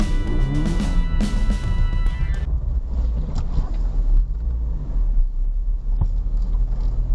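A $20,000 car paddy-bashing across a chewed-up field, its engine droning in a low, steady rumble under heavy wind buffeting, with a brief bright rattle early on.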